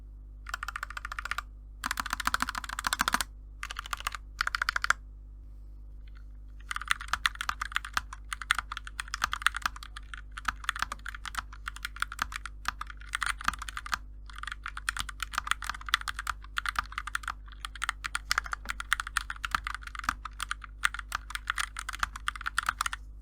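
Someone types on a Kemove K68 Angel 65% keyboard with low-profile keycaps and stock switches, starting with a few short bursts and then a long run of rapid, crisp clacking over a low steady hum.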